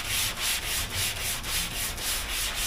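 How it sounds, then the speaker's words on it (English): An orbital sander fitted with 600-grit paper on an interface pad smooths car primer, giving a steady hiss that pulses in a quick, regular rhythm, close and alone. "go over this just with an orbital sander and some 600 on an interface pad to smooth all these"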